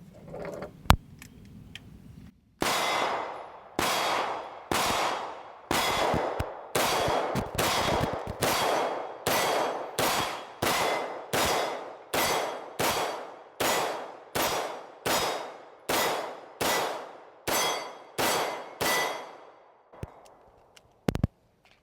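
Rapid strings of Fusion Firearms XP Pro pistol shots ring out at an outdoor range, each sharp crack followed by a metallic ping off steel targets, about twenty evenly paced loud shots with a brief pause near the start.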